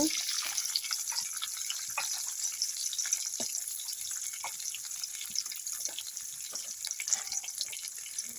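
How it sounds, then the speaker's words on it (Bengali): Sliced onions sizzling in hot oil in a pan while cooking Bengali lau chingri, a steady close hiss dotted with small pops and crackles throughout. "তেল দিয়ে দিচ্ছি এবার পেঁয়াজ দিয়ে দেব"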